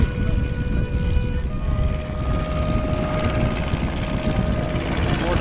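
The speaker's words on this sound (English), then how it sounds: "The Great War display team then with 6 aircraft of 5 different types recreating the battles of the Great War." Several replica Great War aircraft fly past at the Farnborough International Airshow. Their propeller engines make a loud, steady, droning roar that fills the whole stretch.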